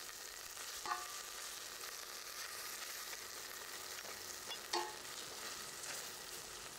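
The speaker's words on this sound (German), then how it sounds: "Wir werden das jetzt auch so ganz kurz ein bisschen anbraten und dann ist es auch schon wieder gut." Ingredients fry in olive oil in a pan with a soft, steady sizzle, and two brief clinks of stirring cut through the hiss.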